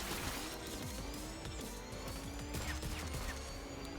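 Paintball shots fly between racing cars in the video game Fast & Furious: Spy Racers Rise of SH1FT3R, a steady crackle of rapid pops and splats over loud engine roar and dense game music, with no talking.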